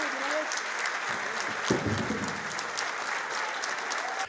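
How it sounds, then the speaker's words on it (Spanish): An auditorium audience at a book fair in Bogotá claps steadily for a former Colombian president, dense sustained applause from a large crowd. "la multitud se puso de pie para aplaudirlo"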